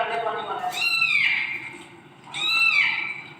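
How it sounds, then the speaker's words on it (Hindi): A cat gives two loud, drawn-out meows about a second and a half apart while it is being bathed in a tub, with background noise and faint voices around it. "बिल्ली को नहलाया जा रहा है।"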